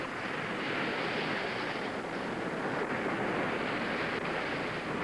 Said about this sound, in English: We're waiting for a set of waves, or a series of waves.